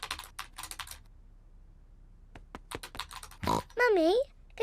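Quick bursts of clicking keystrokes on a computer keyboard, irregular and close, with pauses between; cartoon pig characters chatter and a high sing-song voice follows.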